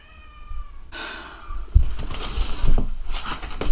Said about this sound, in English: My cat has decided to make himself known.